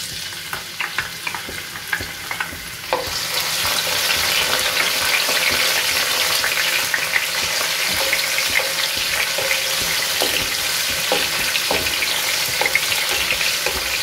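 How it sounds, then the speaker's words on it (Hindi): Finely crushed garlic drops into hot oil in a pan while chicken rezala is being cooked. Quiet clinks give way at once to a loud, steady, crackling sizzle that fills the rest of the clip, with no voices. "अब हम इसमें लहसुन डाल देंगे।"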